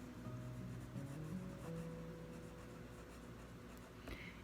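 Pen writing on a label for a homemade herbal antibiotic tincture jar, a continuous soft scratching that runs steadily for several seconds at close range with a faint background hum.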